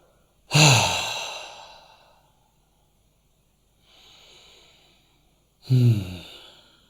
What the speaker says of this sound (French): j'inspire, j'expire, j'inspire, j'expire